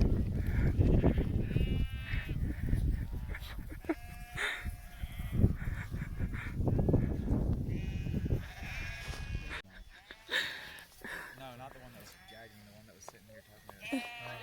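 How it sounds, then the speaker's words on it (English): Sheep bleat repeatedly along the Colorado Trail, overlapping calls from a flock near and far, with people talking excitedly over them and rustling outdoor noise. "Sheep."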